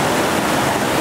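Whitewater rapid on the Gauley River at 650 cfs, the second drop of Initiation Rapid, roaring as a steady, dense rush of churning water, loud and close with no letup.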